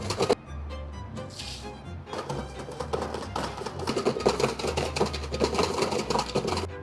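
Egg whites are whisked by hand in a bowl for meringue, the whisk producing rapid, rhythmic clicking and rattling strokes that start after a brief pause and grow denser and louder, close up.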